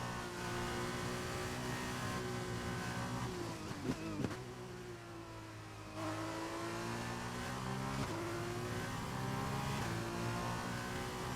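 A Formula 2 race car engine in a sim racing game holds a steady, loud, high-pitched drone. Quick downshift blips around the middle break it up before it climbs back through the gears, with no talk over it.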